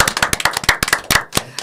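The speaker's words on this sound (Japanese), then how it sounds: "以上、拍手" Clapping from a small audience at a PTA gathering at Takahara elementary school: a quick, uneven burst of close, sharp hand claps that trails off after under two seconds.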